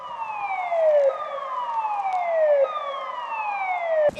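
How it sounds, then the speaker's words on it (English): The Pine River Dam warning siren in Florence sounds before the gates open, sweeping down in pitch in repeated wails about every one and a half seconds, loud and sustained with no talk over it. "The siren means it's gonna open."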